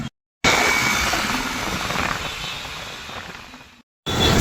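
Heavy street traffic in Hyderabad on the way to Charminar: a dense, steady wash of engines and road noise, loud and close, briefly cut to silence at the start and end.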